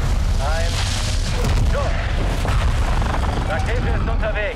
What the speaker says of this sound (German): Schuss. Rakete ist unterwegs.